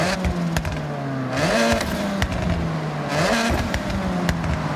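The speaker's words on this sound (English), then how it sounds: "Let's just rev the car." A Ford Focus RS in Forza Horizon 6 revs hard twice, each engine note climbing sharply and then falling back to a steady idle, loud and close with no talking.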